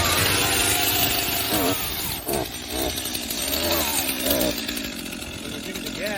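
A Stihl MS 251 C chainsaw with an 18-inch bar runs loud and close, its two-stroke engine buzzing steadily with slight rises and dips in pitch.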